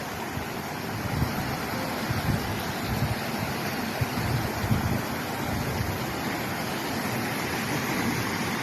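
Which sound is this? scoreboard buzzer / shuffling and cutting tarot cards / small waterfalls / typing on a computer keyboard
small waterfalls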